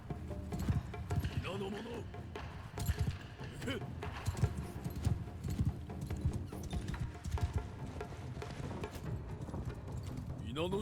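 Horse hooves clip-clop steadily through a battle in the samurai video game Shokuho: Path of the Samurai, as horse archers ride amid constant combat noise and a talking voice.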